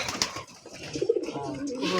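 Pet pigeons at home give soft, low cooing calls close by, with someone talking over them.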